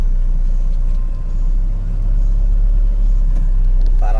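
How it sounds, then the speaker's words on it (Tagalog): Traffic jam on the NLEX expressway near the Mexico exit: a loud, steady close-range rumble of idling and creeping vehicle engines fills the whole stretch with no pauses. "Ito na naman tayo sa traffic."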